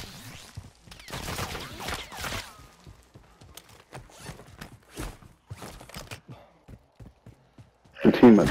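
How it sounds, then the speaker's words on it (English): Sniper gunfire in a Call of Duty video game: sharp cracking shots and impacts arrive in scattered bursts amid rustling movement and footsteps, ending in a loud burst of noise. "I'm getting sniped from top of the hill."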